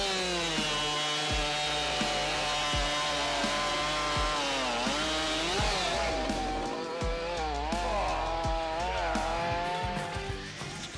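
An MS500i chainsaw cuts through dry wood, its loud, steady engine whine sliding up and down in pitch as the chain bites and eases off, running alone without speech.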